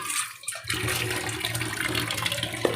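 Running water rinses moringa leaves for soup, a steady close rush of splashing that starts after a brief quiet moment and continues to the end.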